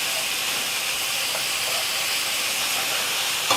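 Chunks of Philly steak meat cook in a pan with a loud, steady, close-up hissing sizzle that runs unbroken, ending in a faint click and no speech.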